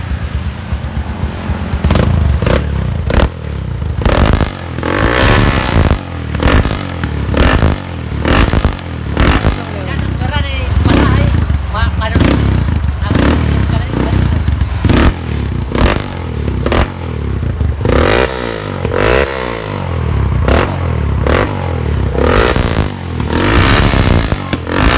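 A Yamaha Scorpio motorcycle with an aftermarket exhaust revs close by, with repeated loud throttle blips and a rough, clattering engine roar that rises and falls over a steady idle.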